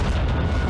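An RPG blast in the Modern Warfare 2 campaign, a short loud booming rumble heavy in the low end, heard alone and close.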